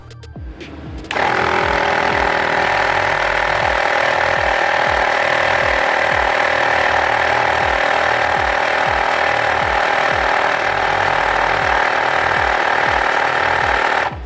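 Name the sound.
AmazonBasics digital tyre inflator filling motorcycle front tyre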